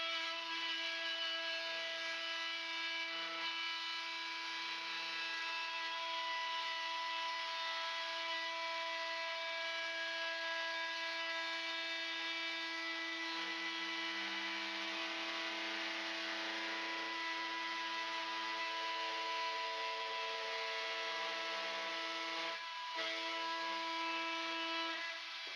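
A power tool cuts a quarter inch into cement backer board for a shower surround, producing a steady, high-pitched whine that holds constant for about twenty-five seconds with only slight shifts in load.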